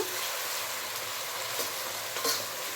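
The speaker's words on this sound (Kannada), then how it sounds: "ಎಣ್ಣೆಯಲ್ಲಿ ಟೊಮೆಟೊನ ಚೆಂದ ಫ್ರೈ ಮಾಡೋಣ." Chopped tomato fries in oil for an okra gojju, giving a dense, even sizzle close by, with light stirring scrapes and a couple of louder clinks near the end and no voices.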